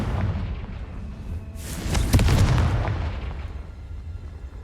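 Confringo blasting spell from the Hogwarts Legacy video game: a low rumbling boom swells into a bright crackling burst about two seconds in, then decays into a long rolling tail, loud and with no talk over it.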